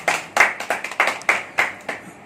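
An audience claps in honour of parents at a gathering, about eight distinct, fairly close claps in a steady rhythm, with no talk.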